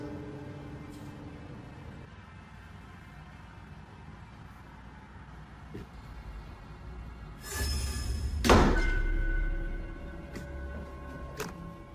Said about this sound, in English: Suddenly, the door slammed shut violently